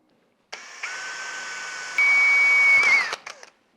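A power drill whines up, then rises to a higher, louder pitch as it bites into a metal differential housing, before spinning down and stopping.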